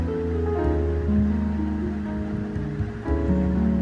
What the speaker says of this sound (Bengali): দেখো পটলগুলো আমি এইভাবে ভেজে নিলাম।